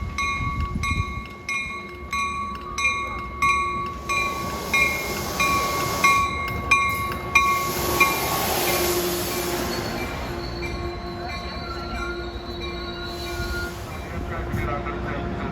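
An ACE passenger train running San Jose to Stockton, California passes with a rolling rumble and clatter, preceded by repeated ringing crossing bells; a voice talks briefly early on.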